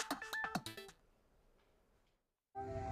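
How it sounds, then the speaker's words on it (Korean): A telephone rings with a short electronic melody of quick repeated tones, clear and close, then falls silent before another sound begins. "전화벨이 울렸습니다."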